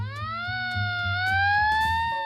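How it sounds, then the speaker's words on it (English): A wailing police siren rises and sweeps in pitch, loud and steady, with a low rumbling engine or traffic noise underneath. "we suddenly heard police sirens"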